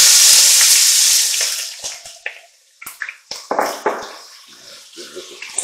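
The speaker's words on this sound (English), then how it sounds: "So now we are going to add in our onions." Onions are added to a pot of browned beef short ribs, starting with a strong hiss of sizzling that fades into scattered clatters and scrapes, then lighter frying sounds.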